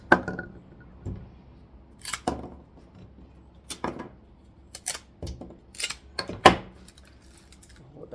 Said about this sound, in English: Some of these stems are a bit big for scissors.